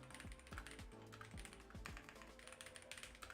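Quiet clicking of typing on a computer keyboard, with rapid irregular keystrokes clustered in bursts and a faint background hum.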